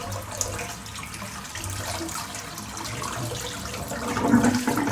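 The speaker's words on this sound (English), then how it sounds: "Right, I'm just going to empty the sink out." Water draining from an emptied bathroom sink during a shave, a steady gurgling wash of flowing water that swells slightly toward the end, with no talk.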